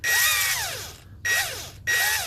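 An Earthquake XT or Milwaukee impact wrench runs at slow speed in three bursts, a loud whining motor rising and falling in pitch with short pauses between runs.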